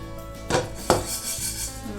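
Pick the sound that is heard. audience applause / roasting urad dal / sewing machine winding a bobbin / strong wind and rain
roasting urad dal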